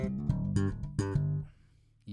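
An MTD Kingston bass guitar with its tone knobs set to center plays a few plucked low notes that ring and then fade, alone and fairly quiet.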